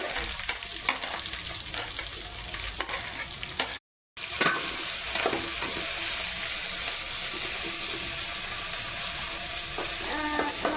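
Onions frying in a pan with mustard seeds and curry leaves while a chicken dish is being made, a close, steady sizzle with stirring scrapes and a brief cut to silence partway through.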